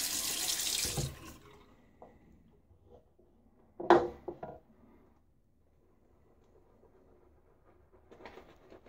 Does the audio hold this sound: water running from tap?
yes